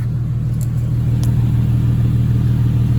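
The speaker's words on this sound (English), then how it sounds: "exhaust leaks. You can hear it. You can hear the hiss." An Infiniti M37 engine idles with a steady low rumble, and a faint broadband hiss from an exhaust leak rides over it continuously, close by.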